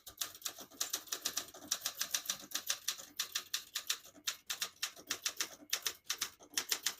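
Rapid typing on a 1968 Olympia SM9 vintage portable typewriter: dense, steady clatter of key strikes in quick bursts with brief pauses, close and clear, no voices.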